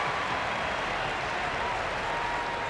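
Arena crowd at the 2019 Reebok CrossFit Games women's clean event roars and applauds in a dense, steady wash of cheering and clapping that holds loud and unbroken throughout.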